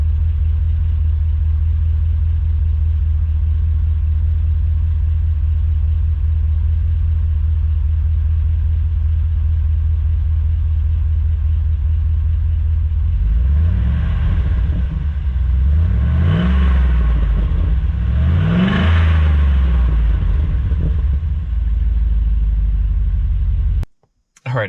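A Trailblazer SS engine fitted with a MagnaFlow muffler idles with a deep, steady rumble, then revs three times in quick succession, each rev swelling and falling back to idle, loud and close, before cutting off abruptly.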